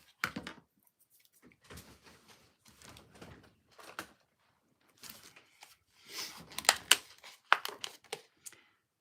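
Scissors snipping open the plastic packaging of a new pair of scissors, heard as scattered crinkles, rustles and sharp cuts in short bursts close by, with no talking.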